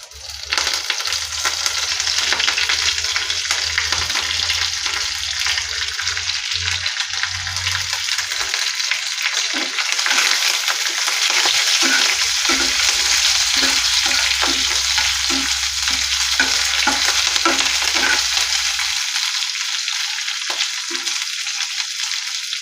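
Cumin, mustard seeds, chana dal, two dried red chillies and curry leaves sizzle in hot oil, a dense continuous crackling hiss, loud and close, with occasional stirring scrapes throughout.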